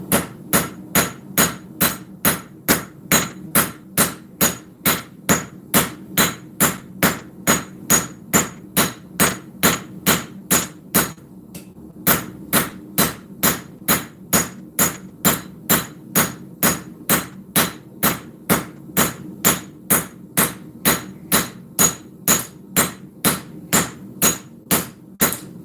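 Hand hammer blows ringing on steel while a full integral knife is forged, a long steady run of sharp, evenly spaced strikes with a brief pause midway, loud and close with no talk.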